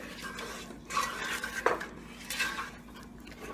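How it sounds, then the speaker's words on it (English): Milk and sugar being stirred in a pan for palkova, soft scraping of a spoon against the pan with a few light metallic clinks, a faint sizzle underneath, close and quiet, no talking. "So stir it continuously."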